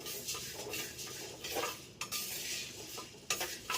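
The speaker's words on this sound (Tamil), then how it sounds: "சிவப்பு சோளங்க நல்லா வறுபட்டுருச்சுங்க" Red sorghum grains dry-roasted and stirred in a clay pot for a homemade millet mix, a soft continuous rustling scrape with occasional sharper clinks of the utensil, fairly quiet and with no talk.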